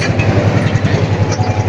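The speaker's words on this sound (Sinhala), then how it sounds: "අපි නයින් ආච් පාලම වලදී කෝච්චියක් ගියා" A train rumbles across the Nine Arch Bridge in Sri Lanka, a loud continuous roar with rhythmic clattering of wheels on rails, heard up close with no voices.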